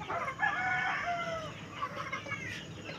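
Chickens cluck and a rooster crows at a farmyard near a piggery, a short burst of close, loud clucking calls with a crowing note, no talk.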